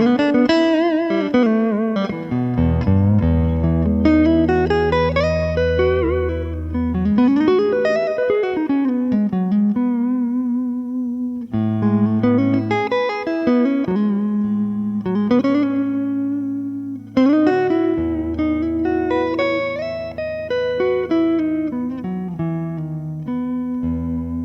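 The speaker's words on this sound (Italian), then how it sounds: "Questo è solo il pick-up al manico dentro il mio amplificatore, niente trucchi, niente AI." Enya Inspire Pro SD electric guitar on its neck pickup through an amplifier, playing a continuous melodic line with sliding bends and sustained notes, clean and close.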